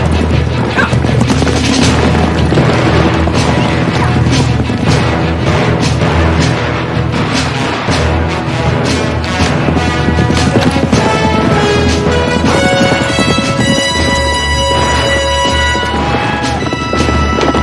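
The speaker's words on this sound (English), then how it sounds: "Who's shooting?" Gunshots crack and boom in repeated bursts during a Western range shootout with rustlers, loud and dense over a constant backdrop of hoofbeats and other commotion.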